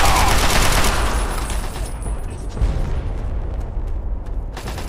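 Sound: gunfire from guns in the video game Fallout 3

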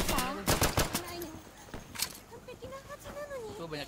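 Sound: gunfire in the video game Insurgency

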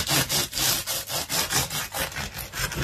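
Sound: knife slicing crusty bread

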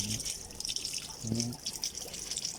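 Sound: coolant water draining from a car radiator

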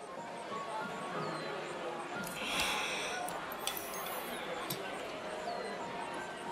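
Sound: dog barking

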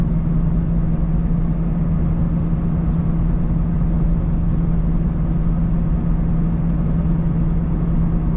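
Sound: car engine while driving

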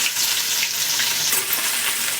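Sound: ginger garlic paste sizzling in hot oil

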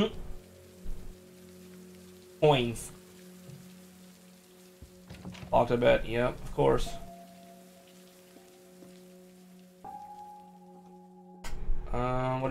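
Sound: rain indoors in video game Layers of Fear 2

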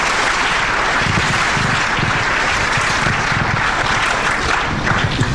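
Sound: audience applause for the panelists

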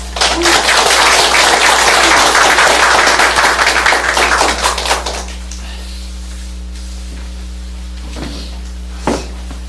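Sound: church congregation applause welcoming the preacher

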